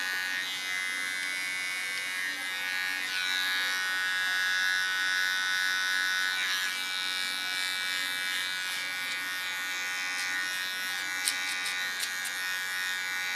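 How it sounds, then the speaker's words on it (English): Small electric hair clipper running while trimming hair: a steady, close, high-pitched motor buzz that holds constant, with slight shifts in tone as the blades move through hair. "You can clean the contour with a small clipper."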